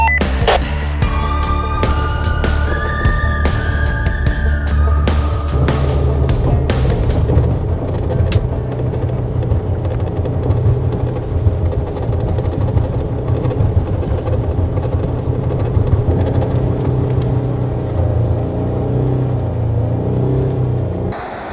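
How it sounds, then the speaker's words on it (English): Jeep Gladiator hauling a trailer up a steep hill, a continuous low engine rumble under strain that holds steady for a long stretch, with some beeping and rattling early on. "Scott was having difficulties in his Gladiator pulling his trailer up the steep hill"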